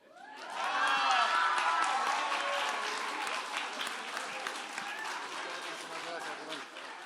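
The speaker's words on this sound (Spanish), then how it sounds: "Aplauso." Audience applause and cheering from a large crowd at an outdoor public talk in Tepito, Mexico City, rising quickly to a loud, dense roar of clapping with whoops, then slowly thinning while staying steady to the end.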